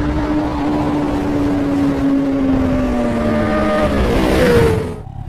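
A motorcycle being ridden on a road, its engine holding a steady drone that rises in pitch near the end before cutting off, close and loud with no talking.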